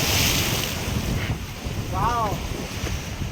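Ocean waves wash and roar steadily at Arjyapalli beach, Odisha, with gusty wind buffeting the microphone throughout.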